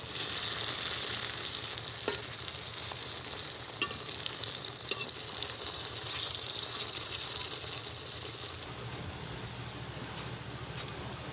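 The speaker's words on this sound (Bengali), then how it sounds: "লাল লাল করে ভেজে নিয়েছি এখন নামিয়ে নেব" Raw banana kofta fry in oil with a loud, steady bubbling sizzle close by, dotted with occasional crackles and spatters throughout.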